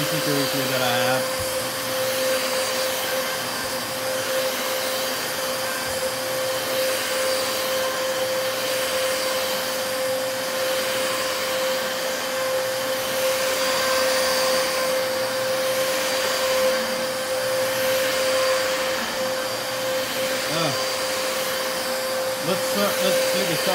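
A Dyson DC33 Multi Floor vacuum cleaner runs steadily for over twenty seconds, a constant close whine with a sharp tonal hum and airy rush, unbroken throughout.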